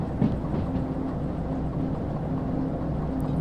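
Train rolling through mountain terrain in the Derail Valley simulator game, a steady low rumble of wheels and engine with faint rhythmic tonal hum, continuous and fairly loud throughout.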